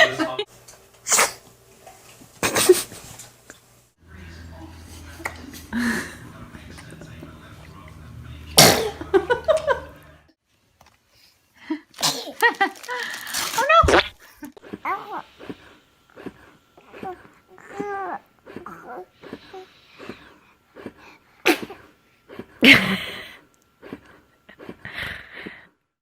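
A baby sneezes a few times between bursts of family chatter and background noise, the sharp sneezes standing out briefly against people talking nearby.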